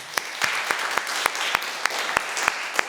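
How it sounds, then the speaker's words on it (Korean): A church congregation claps together after worship, a steady, fairly even patter of many hands with sharp, regular accents standing out, filling the room without any talk. "하나님께 박수로 영광을 돌리시길 바랍니다"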